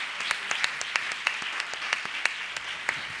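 A church congregation at a Sunday service claps together, dense steady applause with distinct sharp individual claps standing out at close range throughout.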